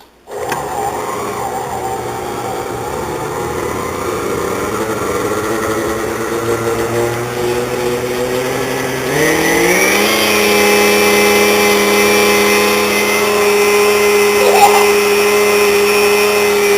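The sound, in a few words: blender making snow smoothies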